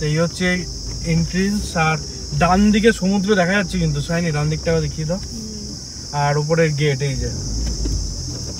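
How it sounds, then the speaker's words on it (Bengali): Crickets chirp in a forest beside the sea at Tajpur, a steady high-pitched drone that runs unbroken throughout while someone talks over it in the foreground. "কি সুন্দর ঝিঝির আওয়াজ।"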